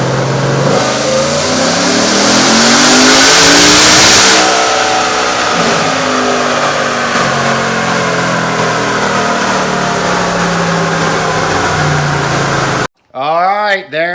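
A Roush supercharged truck engine roars through a dyno pull, its pitch sweeping steadily upward under full load, then cuts off abruptly near the end before a short closing burst.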